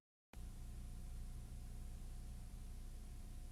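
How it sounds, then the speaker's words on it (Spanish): Television static hiss bursting in abruptly from silence and holding as a steady, broad, even noise, close and fairly loud with no voices. "el sonido de la estática se hizo presente rompiendo el silencio en la casa"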